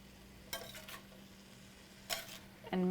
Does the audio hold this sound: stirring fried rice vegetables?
yes